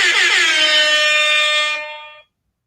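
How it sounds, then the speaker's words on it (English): A single long air horn blast sounds loud and close, holding a bright, piercing tone for about two seconds before cutting off abruptly, with no voices over it. "Let's see what she does if I play an air horn."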